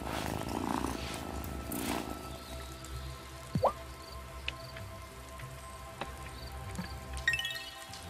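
A cat purrs softly in the video game Wylde Flowers, a low rumbling texture beneath rain-like patter and a few faint clicks and taps.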